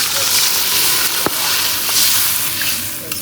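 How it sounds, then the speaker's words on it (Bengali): Water is poured into a pan of sizzling fried spice masala for a curry with potatoes, giving a loud, steady hiss and bubbling sizzle with a few sharp crackles and spits. "এখন জল দিয়ে দিব।"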